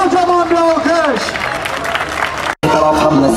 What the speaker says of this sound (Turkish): çadırın hemen ön tarafından Çilek Okul Öncesi Eğitim Kurumlarına çocuk istismar mazur dedikleri için kocaman bir alkış